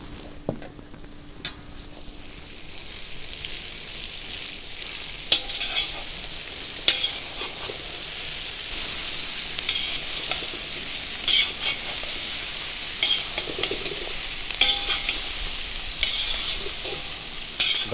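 Sausages fry in a kazan over a campfire, a steady close sizzle with occasional stirring scrapes and pops running through the whole stretch without talk.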